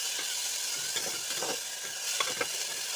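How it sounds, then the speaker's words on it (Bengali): Vegetables seasoned with salt and turmeric fry lightly in a pan, giving a steady close sizzle with soft stirring scrapes throughout and no voices. "তো এখন আমি সবজিটাকে হালকা করে ভেজে নেব, বেশি ভাজবো না, খুব হালকা করে ভাজবো।"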